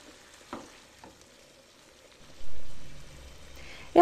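Soft stirring in a frying pan as fresh parsley is mixed through, with a few quiet scrapes and a low sizzle rising partway, close and fairly faint.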